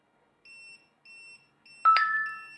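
A Meross MS400H water leak sensor sounds its alarm when placed in a puddle of water: two short, thin, clear beeps, then a louder, longer shrill tone that slowly fades.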